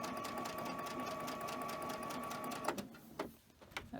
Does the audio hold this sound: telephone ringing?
no